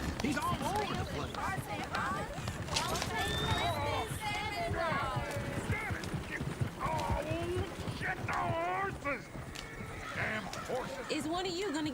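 Hooves of a horse-drawn coach clip-clop through a busy scene in the Red Dead Redemption 2 video game, mixed with horse whinnies and steady talking voices that run over the whole stretch.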